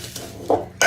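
A spoon stirs pear pecan pie filling mixed with all-purpose flour in a bowl, making a couple of short, bright clinks and scrapes against the bowl over a quiet background.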